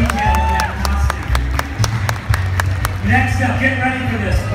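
Audience applause and cheering at Disney's D23 Expo 2017 during a costume showcase: crowd clapping runs steadily under background music, with a voice talking over it.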